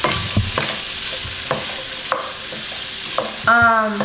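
Beef and onions are stirred in a hot frying pan for a wet fry, with a continuous loud sizzle, scraping utensil strokes against the pan and a brief squeaky scrape near the end.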